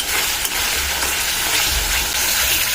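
Small fish frying in hot oil in a pan while being stirred with salt, a loud steady sizzle close by with faint scraping, no talk.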